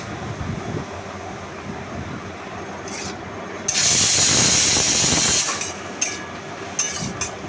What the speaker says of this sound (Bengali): এবার ভালো করে নাড়িয়ে চাড়িয়ে নিচ্ছি আমি শাকটাকে